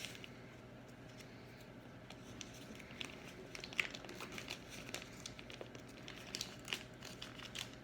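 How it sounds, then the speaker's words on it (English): Paper wrappers crinkling and peeling off two sticks of butter, soft rustling with small irregular crackles, close and quiet, no talk. "So I'm just going to go ahead and unwrap them and put them right in the bowl."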